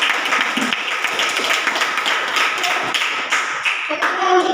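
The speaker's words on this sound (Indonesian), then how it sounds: "beri aplaus untuk kelompok 2" A class of high school students claps in applause for a student group in a school classroom. The clapping is dense and continuous, filling the room steadily for several seconds, with no voices standing out.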